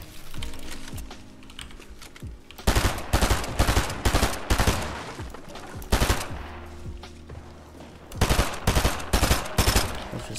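Gunfire in the game Fortnite, repeated close bursts of rapid shots in several volleys, with faint keyboard clicking between them and no talk.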